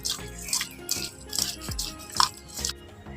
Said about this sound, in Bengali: এবার আমি মেখে নেব